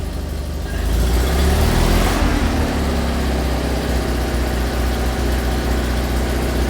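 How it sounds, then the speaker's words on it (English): A Citroën 2CV flat-twin engine idles close by in a steady, even putter, rising slightly after the first second and then holding smoothly with no voices. "There we go, running nicely."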